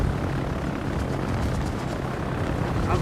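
Torpedo bombers fly in a naval combat game with a steady, loud droning propeller-engine roar that stays constant throughout and has no speech over it.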